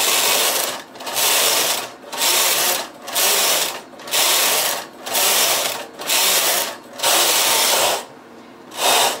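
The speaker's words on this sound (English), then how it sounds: "And now I will knit two rows with the main carriage." A knitting machine's main carriage sweeps back and forth across the needle bed, knitting rows of lace: a loud, close, rhythmic whirring rasp in about eight even passes, each separated by a brief pause as the carriage reverses.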